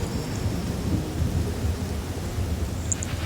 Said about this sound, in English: It's raining! I love rain. Yeah, it's raining.